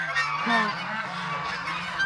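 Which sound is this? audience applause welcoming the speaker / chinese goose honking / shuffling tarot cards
chinese goose honking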